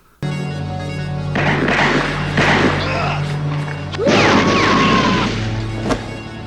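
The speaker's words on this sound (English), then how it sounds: "he just shot Tubbs in the fucking head" A sharp, loud gunshot crack in the film Viking Bikers from Hell cuts through a soundtrack with low droning music, followed by another impact and crashing noise.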